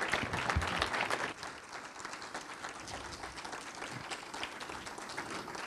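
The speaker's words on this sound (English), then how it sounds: "Let's give them a round of applause." A crowd at a Wayne County gathering applauds steadily for several seconds, a moderately quiet wash of many hands clapping that eases slightly after the first second and carries on without talk.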